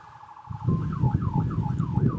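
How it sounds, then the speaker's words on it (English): A siren wails in repeated rising and falling sweeps, about six quick cycles, over a low rumbling background that swells in after a quiet start. "we have all of these sirens happening"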